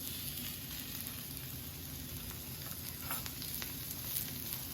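Thin slices of seasoned ribeye steak sizzle steadily on a hot rock, a continuous close crackling hiss and spatter holding at an even level throughout.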